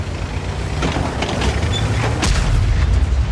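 Tank cannon fire in World of Tanks during an IS-2 battle: a heavy, loud boom with broadband blasts around the middle and end of the stretch, over constant low engine rumble and battle noise.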